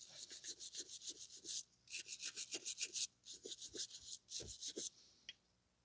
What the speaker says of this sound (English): I just like to use the wire brush just to scrape off on some of the corners